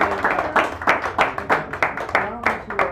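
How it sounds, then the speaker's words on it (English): Clapping for a poet at an SF café poetry reading, a small audience giving distinct, fairly close claps with a loose uneven rhythm, loud and clear, with a little voice mixed in. "we'll give him a nice round of applause"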